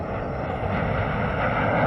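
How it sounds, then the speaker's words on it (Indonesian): A steady, broad engine rumble of a video game airplane droning overhead, loud and continuous, growing slightly stronger toward the end. "Ya, ada suara pesawat."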